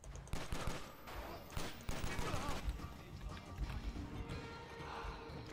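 Rapid bursts of gunfire from the action video game John Woo's Stranglehold, loud and sustained through most of the stretch with a dense mix of game effects.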